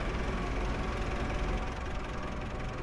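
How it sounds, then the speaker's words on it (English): A tractor engine idles loudly and steadily, a dense low rumble with a constant knocking throb that never lets up, in the video game Farming Simulator 25. "that tractor is very noisy"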